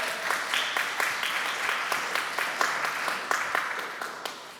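A church congregation claps in warm welcome for a visiting youth group during a Unitarian Universalist service, a dense spread of many hands with sharp individual claps standing out, fading slightly toward the end, with murmured voices underneath.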